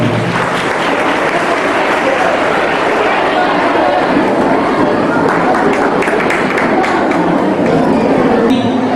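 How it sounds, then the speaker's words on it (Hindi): Loud, dense applause from an audience welcoming a speaker at a Khudiram Bose martyr day commemoration by a student group in Garulia, India, steady for the whole stretch with crowd chatter mixed in. "कृपया तालियों से स्वागत कीजिए।"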